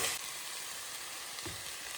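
Onion, spinach and tomatoes sautéing with egg for egg bhurji in a pan, a steady close hiss of frying with a faint stirring scrape midway, no voices.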